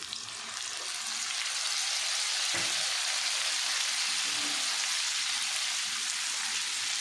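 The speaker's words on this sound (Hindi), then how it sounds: "अब इसमें ऐड कर दूँगी ये मैं 1 चम्मच हरी मिर्च का पेस्ट" Liver frying on a tawa with green chilli paste and tomato paste just added gives a steady, loud, close sizzle that holds unbroken throughout with no talking.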